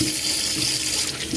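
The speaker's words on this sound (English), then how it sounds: "So now it's just for me to wash these. Just a light wash." Eggplants (melongene) get a light wash under a running kitchen tap, with a steady, close splashing rush of water into the sink throughout.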